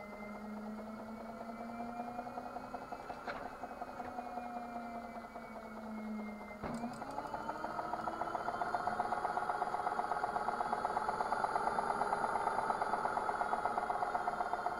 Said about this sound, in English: I'm going to rev it up now.